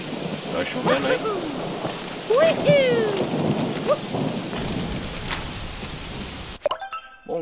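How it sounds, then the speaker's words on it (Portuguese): Rain and thunder in the Super Mario Odyssey video game, a steady wash of rainfall with game tones and chirps over it, cutting to near silence at the end. "Tá chovendo aí."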